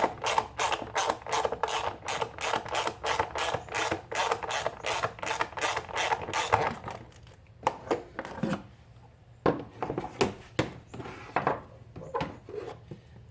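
A hand ratchet turning a nut off a stud clicks in a fast, steady run of sharp, close pawl ticks, then slows to scattered single clicks and short bursts.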